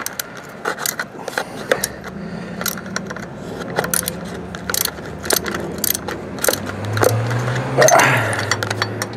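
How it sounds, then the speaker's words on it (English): Two bolts are removed from an Early Bronco steering column in a garage, heard as close metallic clicks, ratcheting and clinks of tool against metal, with scattered handling noise. "Take these 2 bolts off here."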